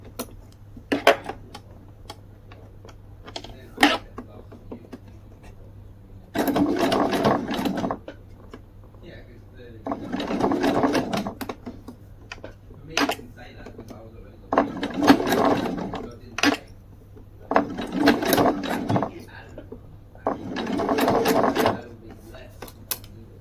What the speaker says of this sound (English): And then sew all the way along to this edge.